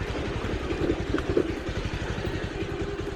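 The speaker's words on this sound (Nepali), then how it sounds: "झट्कामा बाइक स्टार्ट" A motorcycle engine runs at idle, a steady, fairly quiet low putter with rapid regular pulses and faint clatter throughout.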